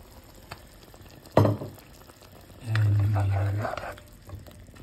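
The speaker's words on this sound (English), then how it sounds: "we are going to add the potato and the eggplant now" Potato and eggplant pieces added to a simmering eggplant-potato curry: a sharp clatter as they drop in, then a couple of seconds of steady sizzling and bubbling.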